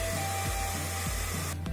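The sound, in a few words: hair dryer drying paint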